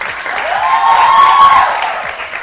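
A studio audience on a Pakistani morning show applauds a cycle prize winner, the brief clapping swelling to a peak in the middle and then easing off, with a faint voice underneath.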